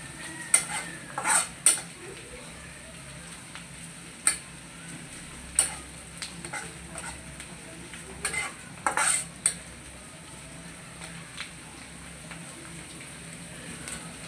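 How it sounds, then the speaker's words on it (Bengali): Onions frying in oil for a tempering of panch phoron for an egg-and-potato dal, with a steady soft sizzle and intermittent scraping stir strokes of a spatula against the pan, close and fairly quiet. "তো এই যে আমার পেঁয়াজ বাগার দেওয়া হয়ে গেছে"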